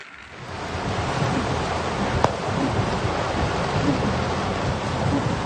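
Fast-flowing flash flood water at Sri Muda, Shah Alam, rushing in a loud, continuous roar close by, with one sharp knock partway through and no talk.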